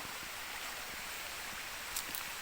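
A small stream in a ravine flows with a steady, soft broadband rush of water, continuous and fairly close, with no voices.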